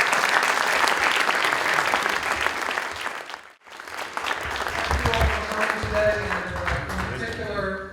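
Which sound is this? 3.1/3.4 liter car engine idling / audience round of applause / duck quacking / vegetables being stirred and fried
audience round of applause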